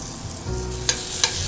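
Shallots and garlic frying in a pan, a steady sizzle with a few sharp pops and stirring scrapes, close and clear with no talking.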